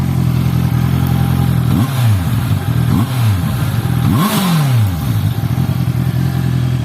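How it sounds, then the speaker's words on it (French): A Honda CBR 650 R inline four-cylinder engine is blipped three times from a loud steady idle, each rev sweeping up sharply and falling back, the last one highest and longest, heard up close. "On va écouter un peu la sonorité"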